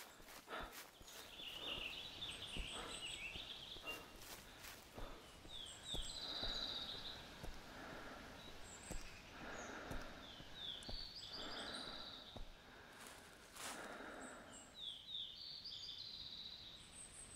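Birds calling in the hunting game theHunter Classic during a bighorn sheep hunt: faint, repeated high chirps and short trills scattered over soft wind and breathing, very quiet overall.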